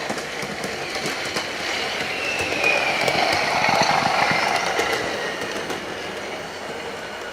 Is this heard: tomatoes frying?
no